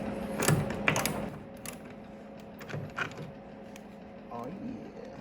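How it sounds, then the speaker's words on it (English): A ratcheting screwdriver working on a bolt while stripping a weathered 1964 Datsun 320 truck. A few close, quick clicking bursts sound over a steady background hum. "They're ratcheting screwdriver action."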